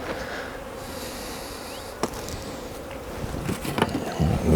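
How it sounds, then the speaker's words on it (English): Honey bees swarm and buzz around an open beehive, a dense steady drone close by, with occasional knocks and handling noises of hive equipment toward the end. "Lots of bees."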